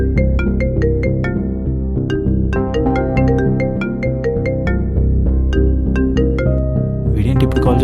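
Mobile phone ringtone playing an incoming call, a bright repeating melodic tune of tonal notes over steady background music, loud and continuous.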